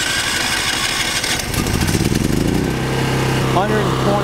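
A Westinghouse WGen3600DF dual fuel generator is push-button started, its engine turning over and catching into a steady, loud, buzzing run that dominates the short clip.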